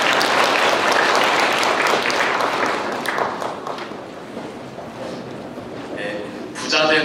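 An audience at a lecture at a Gyeonggi education training institute breaks into loud, dense applause that thins out after a few seconds into scattered claps and quieter room noise.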